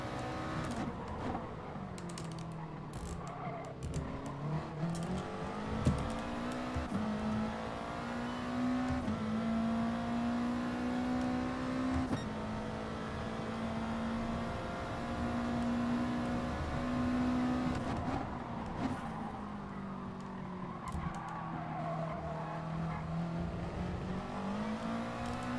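A Subaru race car in Gran Turismo Sport holds a steady, droning engine note, rising and falling gently with throttle and gear changes, continuous and close for the whole stretch, with no talk over it.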